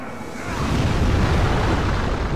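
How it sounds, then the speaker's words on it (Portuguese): Boss explosion attack in the video game Demon's Souls, a sustained roaring blast that swells after half a second and holds loud and broad, no speech over it. "essa explosão dele toma muito... muita área."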